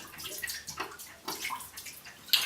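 A warm spiced drink is poured from a Crock-Pot Express multi cooker into a glass, giving close splashing and gurgling trickles in short bursts, with no voices.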